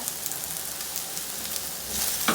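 Potatoes frying on a high flame with curry leaves, an even, close, loud sizzle throughout with a brief scrape of stirring near the end.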